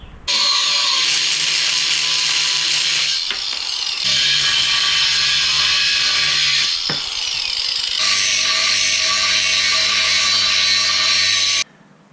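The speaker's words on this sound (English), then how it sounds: "I'm going to use a grinder, cut those down to size" An angle grinder cuts ladder rack lugs down to size in loud, sustained runs, with two brief pauses between the cuts.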